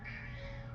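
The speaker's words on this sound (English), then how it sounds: "Meow." A cat meows faintly in a quiet indoor space, its brief, steady call sitting low above the background hum.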